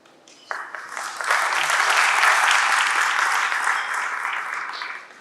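Applause from an audience at the opening ceremony of an MSME business expo, starting with a few claps then swelling into loud, sustained clapping that holds steady before tapering off.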